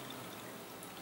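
Water pours steadily into a glass in a water level indicator demo built from Electro Bricks, a continuous close, even splashing trickle for a brief moment with no voices.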